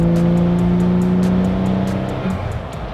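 Toyota JZX90 Mark II with a turbocharged 1JZ-GTE and R154 gearbox pulling hard under boost in fourth gear, heard from inside as a loud, steady rising engine drone with rhythmic pulsing, easing off near the end.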